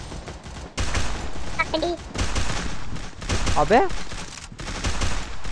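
Gunfire from a mobile shooter video game sounds in dense bursts throughout, loud and continuous under excited male speech and game effects.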